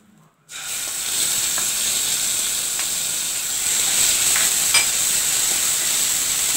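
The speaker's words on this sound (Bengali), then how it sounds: "এবার এই তেলের মধ্যে দিয়ে দেব বেটে রাখা ধনে, জিরে," Ground coriander, cumin, garlic and chilli paste dropped into hot oil, bursting into a loud sudden sizzle that holds as a steady hissing fry with a few sharp pops, close by and without voices.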